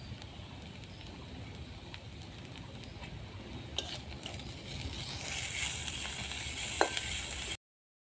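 Onion and okra fry in a pan, a steady low sizzle running throughout with occasional soft stirring scrapes and clicks, the frying growing a little brighter toward the end.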